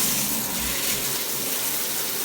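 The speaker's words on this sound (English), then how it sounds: "First step is turning my shower on." A home shower running steadily, a continuous broadband hiss of spraying water close by, alone with no voices.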